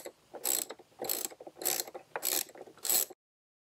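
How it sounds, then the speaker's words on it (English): Screws come off the air filter cover of a VW 2.0T TSI engine in five close, loud bursts of ratcheting clicks separated by short pauses, with no talking. "now we're going to go ahead and remove the 8 screws that hold it on."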